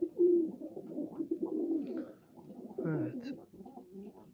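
Bal Kafa pigeons cooing close by, low throaty coos in a steady run, with a single short spoken word over them.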